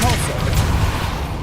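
A Depulso spell is cast in the Hogwarts Legacy video game, a loud, dense booming burst with rumbling low thuds that fills the whole moment, muddied by overlapping game sounds.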